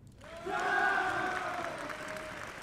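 A live audience at a 2024 National Signing Day event for student athletes claps and cheers, a full, steady round of applause that swells and holds, with a few raised voices rising above it.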